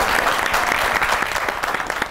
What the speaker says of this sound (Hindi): और लाहौरिया तालियां मारो।